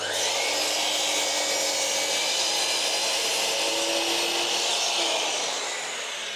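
A hand saw works steadily through a skirting board along a scribed line, a bright continuous rasp close by that holds level and eases off near the end, with no talking.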